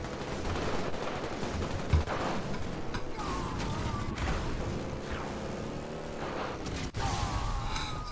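Gunfire in the Halo Online shooter game, a dense, continuous stream of shots and whooshing effects at steady loudness, with a sharp crack near the two-second mark and game music and effects layered throughout.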